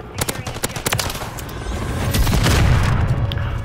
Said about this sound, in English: That's the nuke.